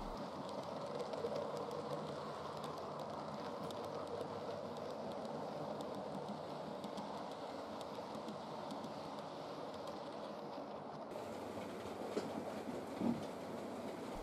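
A model railway V2 locomotive runs on a layout, with a faint continuous rumbling roll and light clickety-clack over the track throughout, with no other sounds.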